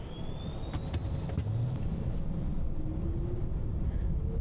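Phenom 300E jet engines spool up for takeoff, a steady rising whine and broad roar heard from inside the cockpit, with a few faint clicks early on and no talking.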